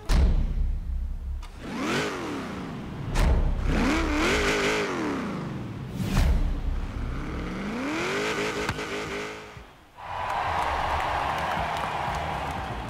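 Nissan 240SX in Forza Horizon 3 revving hard while driving, engine pitch climbing and dropping through several gear changes, loud and close, with a brief lull before a rougher, steady roar.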